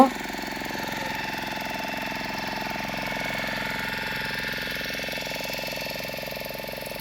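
A fishing boat engine drones steadily throughout, a low mechanical hum with a rapid rhythmic chug, fairly loud and continuous with no voices.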